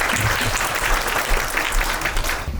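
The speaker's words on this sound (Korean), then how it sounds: "힘찬 박수 부탁드립니다." Loud, close applause from an audience welcoming a speaker, a working broadcast writer, at a student media conference, with thick continuous clapping and slight rises and dips throughout.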